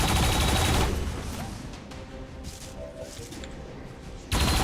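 Turret gunfire in XCOM 2, a loud burst of rapid shots at the start, then quieter game ambience, and another loud burst right at the end.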